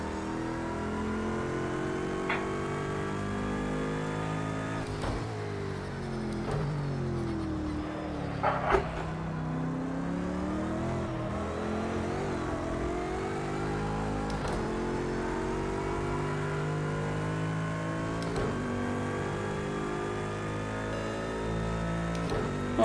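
A Bentley racing car's engine in the video game Project Cars 2, a steady droning hum with shifting harmonic pitch as revs rise and fall, continuous and fairly loud throughout with no talk.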